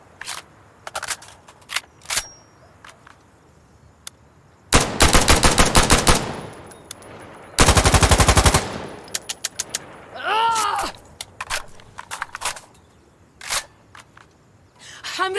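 Guns in the video game Insurgency: Sandstorm fire single shots, clicks, and two long, loud automatic bursts, followed by scattered sharp reports and mechanical handling noises.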